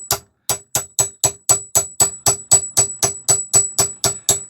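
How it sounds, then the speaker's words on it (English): A chisel taps repeatedly on a cast iron cylinder part of a Stuart Turner generator, about fifteen sharp, evenly spaced metallic strikes with a bright ringing tone, close and loud, with no talking. "We'll try and tap that round with a chisel and see if that'll unscrew."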